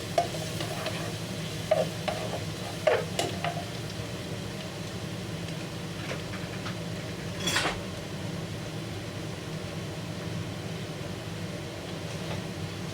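Garlic stirred and sizzling in a pan for sweet and sour chicken, a steady frying hiss with scattered scrapes and clinks of the utensil against the pan, alone with no talk.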